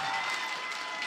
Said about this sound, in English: the crowd is getting hyped